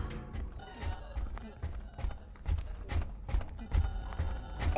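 Heavy thudding footfalls of a horse-like monster gallop in the horror game Rotten Flesh, a fast irregular run of low thumps under game ambience.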